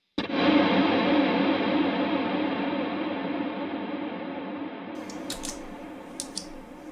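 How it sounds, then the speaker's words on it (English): An electric guitar played through a reverb swell pedal swells in and sustains with a long, washy reverb tail that slowly fades, followed by a few faint clicks near the end. "This is the reverb swell."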